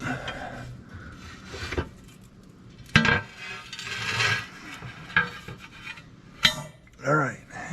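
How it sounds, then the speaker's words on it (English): A heavy metal plate is worked loose from a Kubota SVL75-2 compact track loader, giving scraping rubs and several sharp metallic clanks and knocks at close range, with faint talk in the background. "this plate is a little bit heavy, so be careful when you pull it out"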